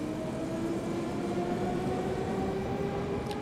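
ET 420 S-Bahn electric train running through Frankfurt in Train Simulator Classic, a steady rolling hum with sustained motor whine tones, even and continuous throughout.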